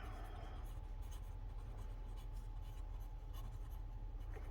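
Fountain pen with a Baoer 801 body and an M nib, filled with Montegrappa ink, scratches softly across paper in short, quiet strokes, close and alone.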